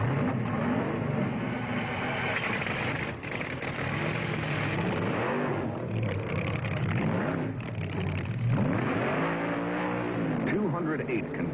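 A 1971 Dodge Pro-Stock drag race car roars loud and sustained at a drag strip, its engine note rising and falling through revs, with people talking over it.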